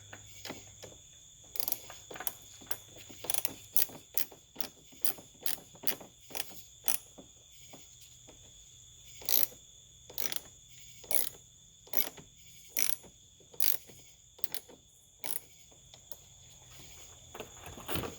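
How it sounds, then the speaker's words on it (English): A hand ratchet clicks in short repeated bursts while tightening a replacement Dorman 926-882 battery terminal on a car battery, close and crisp with pauses between strokes. "So now we can go ahead and tighten it up."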